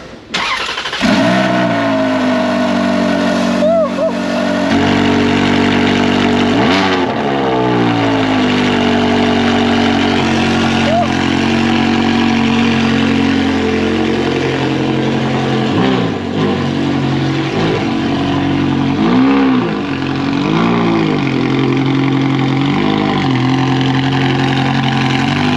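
Ferrari Enzo engine cranks and fires up loudly close by, settling into a steady, rich idle with several sharp revs blipping up and falling back throughout.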